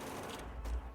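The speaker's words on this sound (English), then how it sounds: "just shooting the trees" Automatic gunfire in Factorio, shooting down trees, rattles as a quiet, dense stream of rapid shots with no talk.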